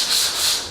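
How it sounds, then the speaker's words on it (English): Sandpaper rubbing across drywall joint compound at close range, a steady hissing scrape with slight swells in pressure, heard alone for under a second. "I'm sanding down the joints"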